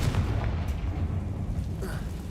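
A Confringo blasting spell explodes in Hogwarts Legacy inside a closed mine that resembles a tomb, a deep, continuous rumbling boom that rolls on loud and low for the whole moment with no talk over it.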